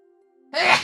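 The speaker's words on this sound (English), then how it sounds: "sorry, I had to sneeze" A single sharp, loud sneeze bursts out suddenly after a quiet moment, with a faint low hum beneath it.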